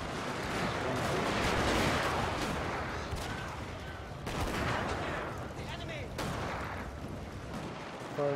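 Matchlock volleys crackle in dense, overlapping bursts during a Shogun 2 battle, a continuous loud rattle of gunfire with sharper single cracks near the middle and end.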